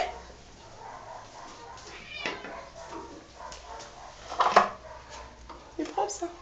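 Domestic cats meow in short, separate calls against a quiet indoor room, with a voice speaking softly between them.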